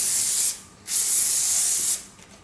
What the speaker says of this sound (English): You can spray around again.